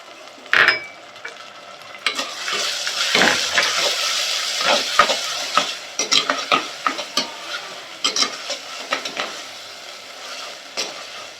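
Tomatoes sauté in hot oil for a crab curry while a spoon stirs them, giving a steady sizzle broken by irregular scraping strokes against the pan, close and fairly loud, with no talking.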